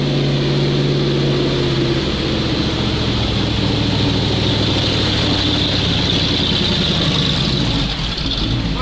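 A GAZ-66 truck engine labors hard off-road, a loud, close, strained roar that holds steady with slight shifts in pitch throughout, without pause.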